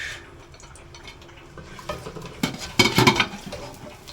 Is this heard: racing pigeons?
no